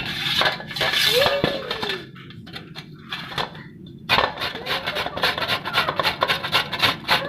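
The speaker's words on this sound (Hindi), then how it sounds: "मैं इसका जो है इस साइड पे गाजरों को कद्दूकश कर लूँगी" Carrots grated by hand on the coarse side of a box grater, giving repeated raspy scraping strokes at close range, loud in bursts with brief pauses between runs.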